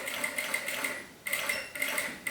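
A sewing machine stitches an X and then a straight seam across an insulated bag, running in rapid whirring bursts with a short pause between runs, close and steady.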